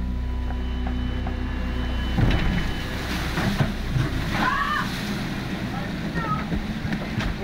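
Seawater sloshes and washes over the deck of a racing yacht at sea beneath a steady hull rumble, with occasional splashes and creaks and brief crew voices in the background.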